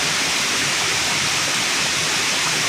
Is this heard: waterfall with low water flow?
yes